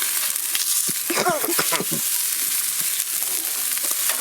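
Steak sizzling on a Camp Chef grill just after being flipped, a close, steady frying hiss with a few sharp crackles and a brief scrape in the middle.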